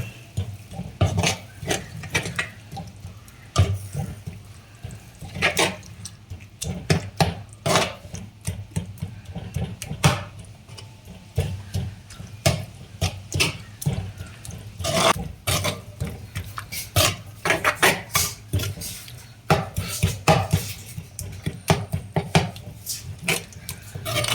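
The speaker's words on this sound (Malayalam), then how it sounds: "നമുക്ക് നന്നായിട്ട് ഇളക്കി കൊടുക്കാം" A pot of prawn curry with tamarind water is stirred steadily, a spoon scraping and knocking against the pot in irregular strokes over a low simmering bubble for about twenty-four seconds, with no voices.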